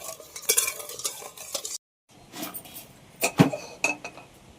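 Dry fruits stirred in hot ghee in a pan, with close irregular scraping and clinking of a metal spoon in short bursts, broken by a brief silent gap and light frying underneath.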